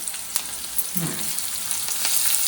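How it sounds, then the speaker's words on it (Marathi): Spices for a tempering sizzle and crackle in hot oil in a home kitchen, a steady close frying hiss with a few sharp pops and a brief stir, with no talk. "फोडणी मस्त झाली पाहिजे फोडणी कढीपत्ता राहिला आहे तिचा"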